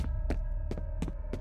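Heartbeat in the video game F.E.A.R., four slow, heavy thumps spaced evenly over a low steady hum, close and prominent.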